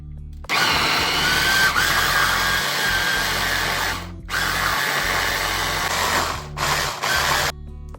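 A mixer grinder whirs loudly as it grinds grated coconut, running in a steady high whine for several seconds, pausing briefly, then starting again twice, with no talking.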